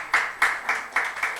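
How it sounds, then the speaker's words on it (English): Audience at a literature and art festival in Bhopal applauding in a hall, heard as about six evenly spaced, fairly close bursts of clapping with a faint steady background between them. "Let us take this moment to applaud Bhuri Bai's exceptional talent and her contribution"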